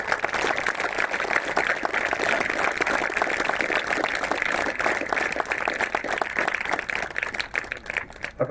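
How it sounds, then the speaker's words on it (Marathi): Sustained, dense applause from a large crowd at a day-night cricket festival keeps up a steady roar of clapping for several seconds before easing slightly toward the end. "जोरात टाळ्या द्या"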